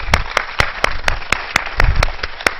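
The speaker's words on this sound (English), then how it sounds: "let's give our citizens and our king a round of applause" Church audience clapping in a brief, lively burst of sharp, evenly spaced claps.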